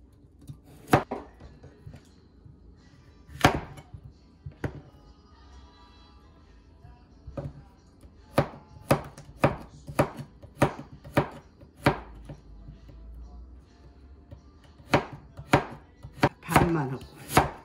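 A knife chops ingredients on a cutting board for a spicy Korean squid soup, with irregular sharp thuds, scattered at first, then bunching into quick bursts, in a quiet kitchen.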